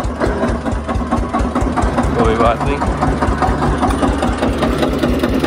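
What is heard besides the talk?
tractor engine running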